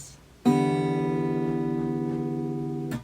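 A guitar strums one chord and lets it ring for about two and a half seconds. The sustained chord is clear and close, and the next strum begins just as the sound ends.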